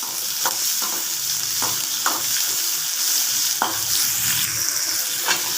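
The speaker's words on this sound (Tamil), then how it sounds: "இப்போ வெங்காயம், தக்காளி போடுவோம்." Onion and tomato sautéing in a pan with oil, a steady sizzle broken by several sharp stir scrapes and clinks of a spoon, close and alone with no talking.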